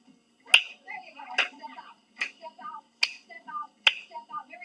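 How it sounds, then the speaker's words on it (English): Five sharp, separate hand claps land at a steady walking pace during a home walking workout. Soft background sounds fill the gaps between them. "go ahead, add a little clap"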